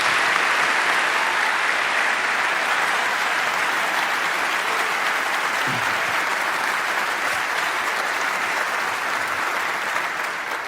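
An audience at a ceremony honouring a graduating group of young people and their families gives loud, sustained applause that fills the room evenly for its whole length, with no talking over it.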